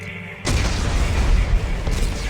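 Explosives detonate in the Dead Space 3 video game: a loud, sudden blast breaks in, followed by a sustained rumbling roar that fills the rest of the moment.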